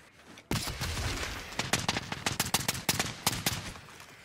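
Automatic gunfire in Call of Duty: Modern Warfare, a sudden loud burst followed by rapid irregular shots from several weapons in close succession.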